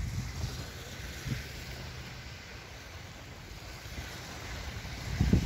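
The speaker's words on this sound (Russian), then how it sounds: "Волны плещут." Gentle waves lap and splash against the shore of Lake Baikal near Olkhon island, soft and close, with a few stronger splashes and a constant wind rush over the microphone.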